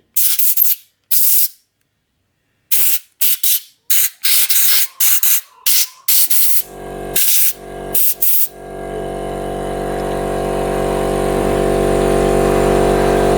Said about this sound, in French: Je prends mon tuyau d'air et toujours pareil, hein, je souffle dans tous les petits trous, pardon, pour faire sortir les impuretés au cas où